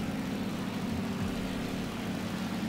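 A propeller airplane engine in a Battlefield Heroes video game drones steadily and loudly, a constant low hum with no voices.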